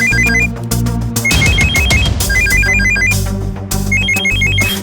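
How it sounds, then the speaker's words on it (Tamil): A phone rings loudly and repeatedly in a domestic scene from a Tamil TV serial, with a musical ringtone repeating in short melodic bursts over a steady background, and no talking over it. "ஃபோன்."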